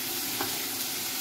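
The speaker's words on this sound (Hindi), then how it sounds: "अब इसको बढ़िया से फ्राई करेंगे हम लोग" Turmeric, cumin, coriander and vegetable masala fry in a pan with a dense, continuous hiss and faint stirring over a brief moment, and no voices.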